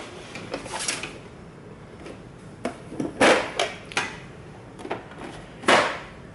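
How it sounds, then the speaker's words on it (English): Back tray being pulled out of a Brother ScanNCut SDX1000 cutting machine: a close series of plastic clicks, knocks and sliding clunks in irregular bursts, with no talking. "at the back of the machine, there is a tray to pull out, which makes sure your mat doesn't curl underneath"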